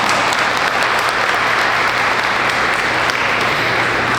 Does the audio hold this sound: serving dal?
no